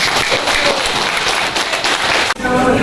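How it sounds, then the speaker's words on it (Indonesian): Applause from an audience at a gathering in Palembang, loud and dense, continuing steadily for about two seconds before a brief dip, then resuming, with some voices mixed into the clapping. "Bagi kita tepuk tangan dulu bersama tim."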